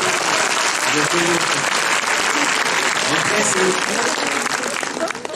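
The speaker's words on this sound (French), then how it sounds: "Vous applaudissez encore." Sustained applause from an audience at a French film team meeting for Alibi.com 2, loud and dense throughout, with a voice speaking briefly over the clapping.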